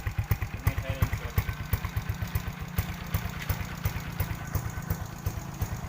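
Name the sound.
motorcycle engine idling with stock exhaust and silencer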